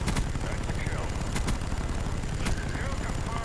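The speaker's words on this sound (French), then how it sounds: "Je vais envoyer mon artilleur d'hélico." A helicopter gunner in Black Ops 2 fires continuous heavy rounds, a dense roar of rapid shots and booming impacts with sharper cracks throughout, while someone talks over it.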